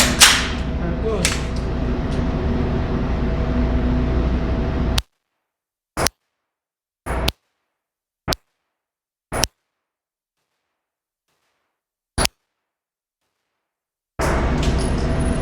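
A pistol fires CCI Blazer ammunition from the window magazine supplied with the gun: six sharp, loud shots with irregular gaps between them and silence in between, following a stretch of steady, noisy handling and ambient sound.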